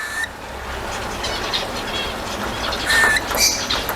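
A caged pet bird calls for food, a few short high chirps and squawks over steady low background noise, fairly close.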